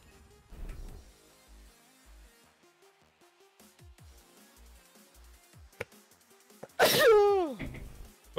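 A single sharp sneeze bursts out loudly near the end, after a stretch of quiet clicking and faint background sounds.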